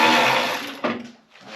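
A socket tool turns out a 7/16 tailgate bolt on an 87 K5 Blazer with a brief, whirring mechanical buzz that fades, followed by a short second burst.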